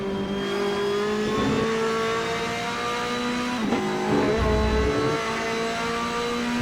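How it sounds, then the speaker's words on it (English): Ferrari and Corvette GT race cars, a mid-engine Italian and a front-engine Corvette, roar steadily around the Sepang circuit, one loud sustained engine note with brief shifts and surges, no voices. "mid-engine Italian prancing horse against the fire-breathing front-engine Corvette"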